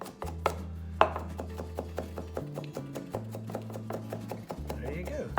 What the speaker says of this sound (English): they'll cut without crushing the shallot or the herbs